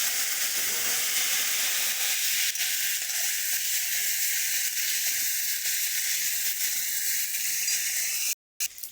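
Potatoes fry in hot oil in a pan, a loud, steady, close hissing sizzle that carries on unbroken until a brief cut near the end, with no talk.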